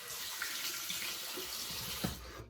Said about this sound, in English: Then a cold water splash, close the pores.